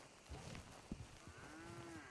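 A cow moos in the Red Dead Redemption 2 video game, one drawn-out low call heard faintly toward the end over quiet outdoor game ambience with a few soft thumps.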